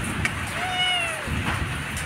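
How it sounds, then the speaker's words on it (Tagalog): A cat gives a single clear, drawn-out meow with rising and falling pitch, close to the microphone, over a soft hum of background noise and brief clicks. "Look at this very cute cat"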